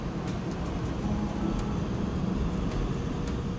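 DC-9 jet airliner at takeoff power, a steady dense roar of engine noise with faint repeating clicks above it, no voices.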